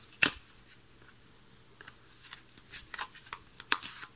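Tarot cards are shuffled and picked out, heard as one sharp card flick near the start and then a run of soft, quick riffles and slides later on, close up and quiet with no talking.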